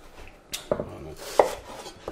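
Onions chopped with a knife on a cutting board, a few distinct close knocks spaced irregularly with quiet gaps between, no talking.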